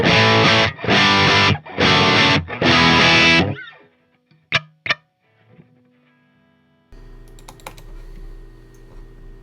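Four loud, distorted electric guitar chords chug in rhythm through a 2x12 cabinet with Vintage 30 speakers, followed by a few sharp muted hits and a lingering ringing, buzzing sustain.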